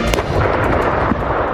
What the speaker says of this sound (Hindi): क्रेमलिन पर हुए धमाके की तस्वीरें पूरी दुनिया ने देखी हैं।